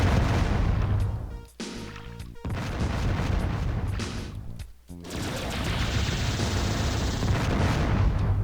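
The Vulcan cannon fires in the video game Descent. Rapid, loud bursts of gunfire run almost continuously, broken by two brief pauses.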